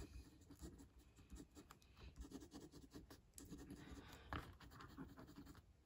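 Faber-Castell rollerball pen scratching steadily across Karst stone paper, a close, continuous dry scrape with brief stroke bursts and no talk.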